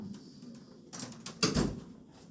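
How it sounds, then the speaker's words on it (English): A door is pushed shut in a room where a talk is under way, a soft swish followed by a dull thud, quiet and close, with a faint murmur of people elsewhere. "I will shut this door now that you can hear everyone down there."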